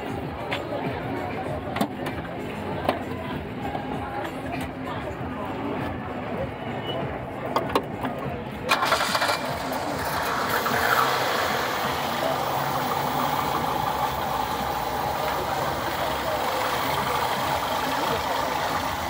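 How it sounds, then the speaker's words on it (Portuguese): A classic Chevrolet Monza engine turns over and settles into a steady idle, its running note rising in level after the start and continuing throughout, with people talking nearby. "Mostrar esse motor aqui funcionando."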